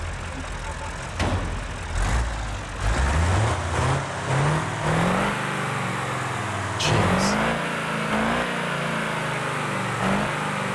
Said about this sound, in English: I love the sound of a big diesel V8 like this, especially the Sania trucks